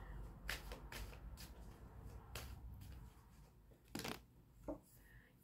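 Tarot cards are shuffled and drawn from a nearly used-up deck, making quiet riffling and flicking bursts with short snaps and rustles between them.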